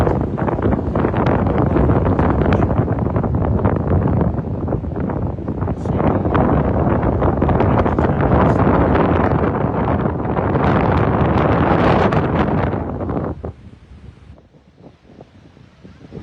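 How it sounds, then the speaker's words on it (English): Strong wind blasts across the microphone on the Clacton seafront, a loud continuous roar with gusty surges that suddenly drops much quieter near the end. "I'll try and stay out of the wind, folks."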